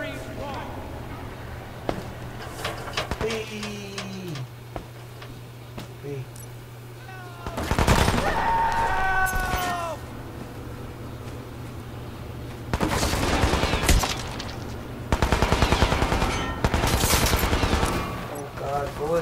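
Bursts of automatic gunfire in Hitman: Absolution, several loud clustered volleys spread across the clip over a steady low hum, with speech and other game sounds in between.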